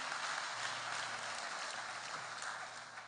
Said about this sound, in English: Let us give a hand clap to this great choir